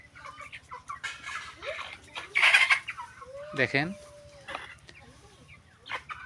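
Sixty-two-day-old chickens, hatched in a small incubator and kept on straw through winter, cluck and squawk nearby in an irregular chorus, with one sharper call standing out, while someone speaks briefly over them.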